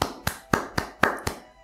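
Single person clapping hands slowly, six sharp distinct claps in an even rhythm, close and fairly quiet with no talk.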